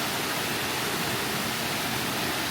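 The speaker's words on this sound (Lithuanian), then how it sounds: "Kriokliukas." A small waterfall near a village in the Taroudant area of Morocco pours as a steady, dense broadband rush, constant and unbroken throughout, with no voices over it.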